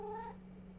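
A single short cat meow, clear and fairly close, fading into quiet room tone after under half a second.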